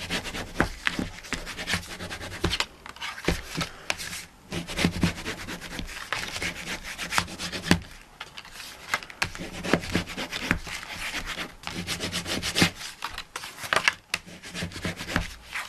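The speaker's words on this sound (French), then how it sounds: "je frotte pour bien qu'il soit bien collé." Paper glued into a handmade accordion photo album is rubbed down by hand, a steady close scratchy friction with short pauses, continuing through the whole stretch with no talking.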